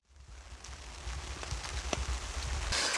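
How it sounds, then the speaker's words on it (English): Light rain begins falling at a lakeside campsite on Lake Superior. Soft patters and scattered drops build gradually into a steady hiss, with a rustle of breeze rising toward the end. "the rain's starting to get real, and actually there's a little bit of a breeze picking up"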